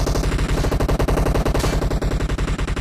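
Thompson submachine gun fire in PUBG Mobile finishing off a knocked enemy: one loud, rapid, continuous burst of close shots.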